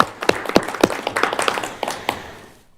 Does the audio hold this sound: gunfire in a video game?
no